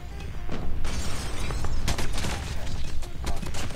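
Shotgun blasts from a Damascus R9-0 in a fast online shooter, several loud booming reports in quick succession amid crackling impacts and game noise, with excited talking over the top.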